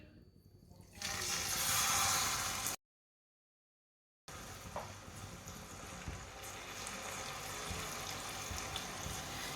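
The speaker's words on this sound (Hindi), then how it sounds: "थोड़ा सा पानी डालेंगे।" Water poured into a pan of hot ghee and sugar for semolina halwa, a brief loud rush of pouring and sizzling, then a pause and quieter stirring and splashing.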